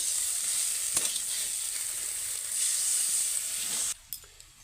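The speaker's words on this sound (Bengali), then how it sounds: "এবার আমি এর মধ্যে অল্প পরিমাণ জল দেবো।" A splash of water hits a hot pan of raw banana pieces cooking over a wood-fired stove, sending up a strong, steady sizzle that cuts off sharply near the end.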